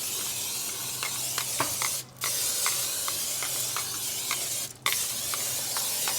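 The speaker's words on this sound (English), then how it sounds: "let's go ahead and do our Pam spray also" Pam cooking spray hisses from a can in a long continuous burst over chicken wings cooking on a smoker, broken by two brief pauses, with faint sizzling beneath.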